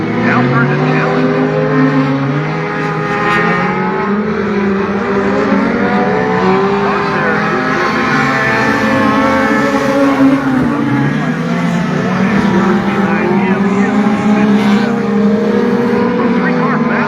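Race cars roar through a heat race at Hattiesburg Speedway, their engines droning loudly and continuously with shifting pitch as several cars battle closely for position.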